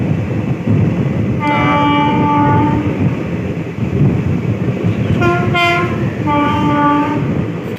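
Bhagirathi Express passenger train on the Lalgola–Sealdah line pulling into Debagram station in Nadia, a steady loud rumble throughout with two long horn blasts, the second broken into several pulses.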